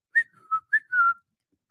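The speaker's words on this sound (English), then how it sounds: "You can't whistle." A person attempts a whistle, producing a few short, breathy whistled notes in a broken rising-and-falling pattern, close and fairly quiet, with no talking.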